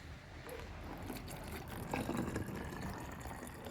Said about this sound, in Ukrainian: я оцей простий оприскувач наливаю